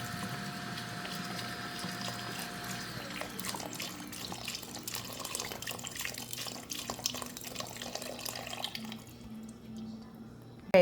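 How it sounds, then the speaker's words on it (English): Broth trickles and splashes continuously into a soup pot for white bean soup, a steady liquid pour with a shifting tone as the pot fills, ending with a brief clatter. "I have to add the rest of the broth."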